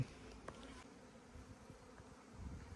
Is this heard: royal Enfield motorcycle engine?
no